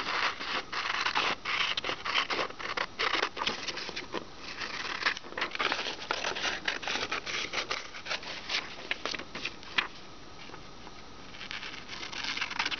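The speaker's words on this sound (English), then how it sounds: "First step is to cut out the protractor." Scissors snip and scrape through a paper protractor cutout, a dense run of close, quiet crisp cuts and rustling paper with no voice.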